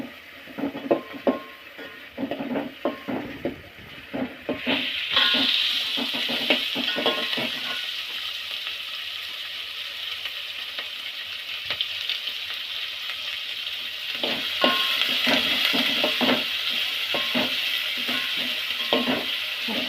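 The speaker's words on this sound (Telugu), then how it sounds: "ఉల్లిపాయ, పచ్చిమిర్చి వేసి కొద్దిగా వేయించాలి." Chopped onion and green chillies frying in a pan for upma, a loud continuous sizzle that swells partway through, punctuated by rhythmic scraping and clinks of a spatula stirring.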